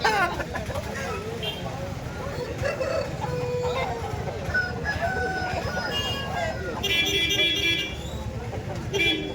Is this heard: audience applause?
no